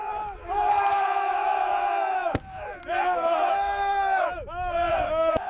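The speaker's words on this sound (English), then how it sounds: "The observers burst into cheers." A crowd of observers at a tank gun test cheers and shouts in sustained voiced bursts, with a couple of sharp clicks and a short lull midway before the cheering swells again.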